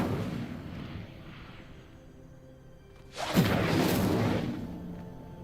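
A fiery spell blast erupts in the video game Hogwarts Legacy, a sudden loud whooshing burst after a quieter stretch of ambient game sound, sustained and roaring for a couple of seconds.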